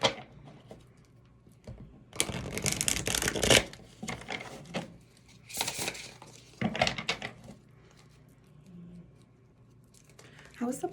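Love Oracle cards are shuffled in close, riffling bursts that come and go in several flurries between quieter pauses.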